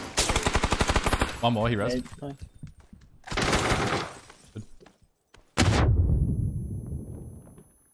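Rapid automatic gunfire in the battle royale game PUBG comes in a fast rattling burst, then a second volley and a final loud shot that echoes away. A player speaks briefly between the bursts.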